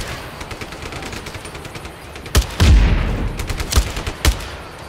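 Gunfire in the open-world action game Just Cause 3: a few sharp, loud shots and a heavier burst or blast ring out over a low game backdrop, spaced irregularly across a few seconds.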